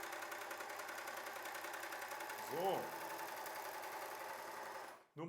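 A W6 N 454D overlock sewing machine runs continuously while sewing a ruffle seam, a fast, even mechanical whirr at close range that holds steady and then cuts off abruptly near the end.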